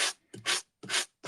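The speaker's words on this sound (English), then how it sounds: "we're going to use our sanding block" A sanding block rubbed over embossed two-toned cardstock gives three or four short, dry rasping strokes in a steady back-and-forth rhythm, close and fairly crisp, with brief gaps between the passes.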